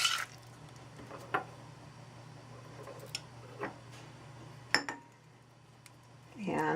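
A spoon folds chocolate chips into brownie batter in a quiet kitchen, with soft, sparse squishes and a few light clinks and taps against the bowl, spaced irregularly and heard close up.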